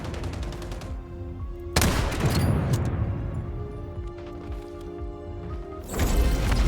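Sniper rifle fire in an online shooter video game, loud gunshot blasts with long ringing tails, one heavy shot in the middle and another near the end over a busy game background, no talk.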